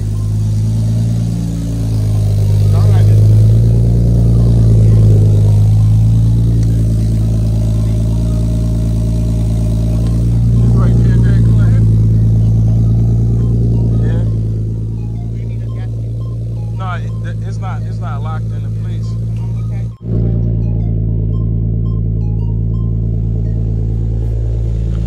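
A 2JZ-GTE-swapped Lexus SC300 with a Blitz Nur-spec exhaust rumbles and revs nearby, its deep drone rising and falling before settling to an idle, while people talk over it.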